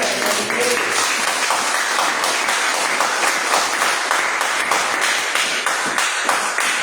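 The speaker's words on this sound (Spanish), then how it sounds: "Dele palmas al Señor." Church congregation clapping their hands during a service, a dense continuous patter of many hands at an even, fairly loud level throughout.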